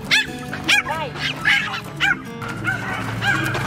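A dog barks and yips excitedly at a riding stable, giving a rapid series of sharp, high barks with whimpering in between, close and loud, with people talking in the background.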